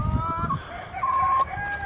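Chickens cluck and make drawn-out calls nearby, with a rooster-like tone and a little background noise.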